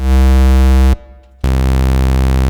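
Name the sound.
synthesizer square wave tone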